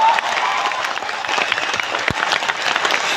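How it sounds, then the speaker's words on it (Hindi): Loud, dense applause from a large audience at a seminar in Bapu Sabhagar hall in Patna, continuous rapid clapping filling the room throughout. "बापू सभागार की इस पवित्र भूमि से दशरथ मांझी के लिए जोरदार तालियां बजनी चाहिए"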